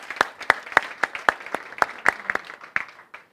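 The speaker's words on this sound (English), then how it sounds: "let's give them a round of applause" Short round of applause at an education department event, a small group clapping in a sparse, uneven rhythm for about three seconds before fading.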